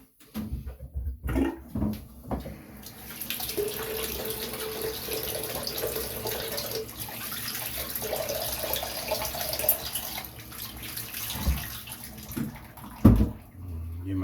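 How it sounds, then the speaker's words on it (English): A razor head rinsed under running water from a tap, a steady close splashing rush with a few knocks and clatters at the start and end, no speech. "I'm gonna go ahead and rinse off the head."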